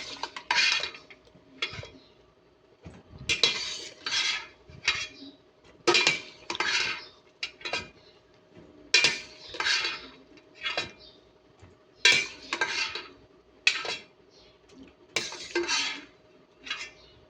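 Cooked root crops and fruit for binignit, including sweet potato, ube and banana, are scooped back into their container, giving repeated clinks and scrapes of a utensil against pots and dishes in an uneven rhythm, close and fairly loud, with no talk.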